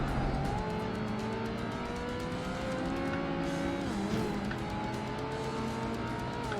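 A Ferrari races in Project Gotham Racing 2 on Xbox, its engine droning steadily at high revs with shifting pitch and a brief tire squeal, loud and continuous throughout.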